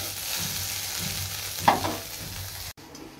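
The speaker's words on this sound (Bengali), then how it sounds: "ভেন্ডি ভাজাটা প্রায় হয়ে এসেছে" Okra (bhindi) frying in oil in a home kitchen pan, a steady soft sizzle with a brief stirring scrape, then cut off abruptly near the end.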